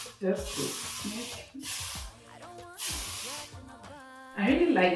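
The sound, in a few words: spraying hair product on a lace wig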